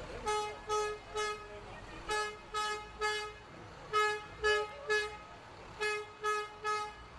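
Public works trucks sound their horns in a July 4th parade, a steady series of short toots in pairs and triplets, moderately close over quiet street background.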